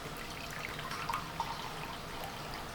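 A quarter cup of boiling hot water poured into a fruit fly culture container, a soft close trickle and splash with a few brief drips, quiet and continuous.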